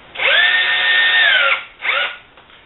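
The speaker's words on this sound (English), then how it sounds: "Finish driving the screw down." A cordless drill driving a screw into an acoustic panel whirs up for over a second, winds down, then gives a second short burst, loud and close.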